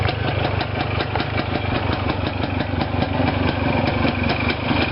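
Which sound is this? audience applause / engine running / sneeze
engine running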